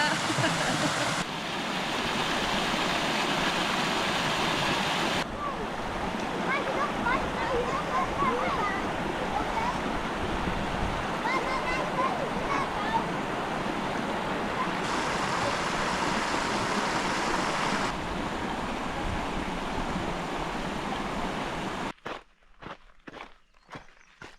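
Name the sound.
waterfall rushing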